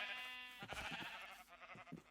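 A sheep in the video game Minecraft gives a short, faint bleat, wavering and nasal, heard on its own.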